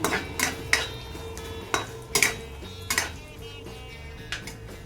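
A metal spoon clanks and scrapes in a pan while cumin, garlic and dried red chillies fry for onion chutney, with several sharp knocks spread over a soft, low background.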